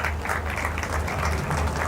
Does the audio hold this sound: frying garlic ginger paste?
no